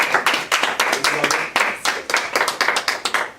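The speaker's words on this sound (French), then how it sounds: "on peut l'applaudir" A game show audience applauds a contestant called up from the crowd: close, dense clapping from a modest group of hands, with sharp individual claps and a brief voice underneath.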